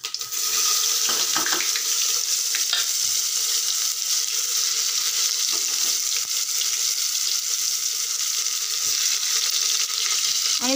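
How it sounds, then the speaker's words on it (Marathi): Cumin, chopped onion and garlic sizzle steadily in hot oil for chicken soup, a constant bright crackle with occasional stirring clinks and scrapes in the pan, close and fairly loud, with no talking. "आता आपण यामध्ये जिरे ॲड करूया चिमूटभर आणि कट केलेले कांदा आणि लसूण देखील ॲड करूया।"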